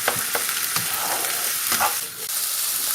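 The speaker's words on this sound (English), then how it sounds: "Keep stirring the veg while frying." Mixed vegetables and onions sizzle steadily in a hot pan while a utensil scrapes and stirs them in irregular strokes, close and continuous with no talking.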